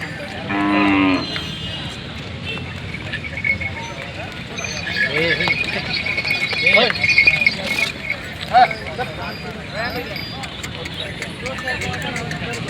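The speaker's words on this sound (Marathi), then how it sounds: "एक 6 दात कडदात अशी बैलजोडी आहे." Khillar bulls moo repeatedly at the Nampur cattle market, several loud nearby lows amid crowd babble, passing vehicles and people talking.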